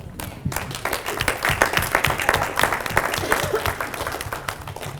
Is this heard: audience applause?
yes